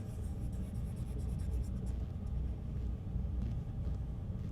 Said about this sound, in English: It's got just a slight bit of roughness, like you are like drawing on a piece of paper